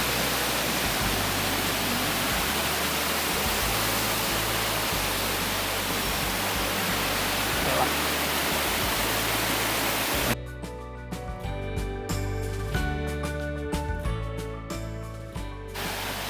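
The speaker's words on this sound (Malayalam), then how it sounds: "ഇവിടെ നിന്ന് വെള്ളം താഴെയൊക്കെ 6 റൂട്ട് വഴി അങ്ങ് പോകും" Water rushing steadily down a channel at a Munnar nature resort, a loud, broadband wash that fills the first ten seconds and then cuts away to quieter, more varied surroundings.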